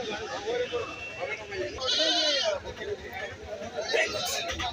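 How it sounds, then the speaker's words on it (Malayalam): At a busy Kerala goat market, goats of many types let out wavering bleats, a couple of clear calls standing out over someone speaking and the surrounding crowd chatter. "പല ടൈപ്പിലുള്ള ആടുകൾ ഇവിടെ ചന്തയിൽ വന്നാൽ കിട്ടും"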